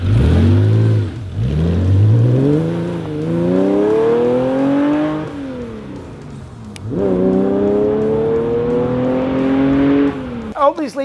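Porsche 911 fitted with new Design 911 headers and a new muffler, its exhaust revving up and down in repeated loud rising and falling sweeps, close by, with a brief pause near the middle.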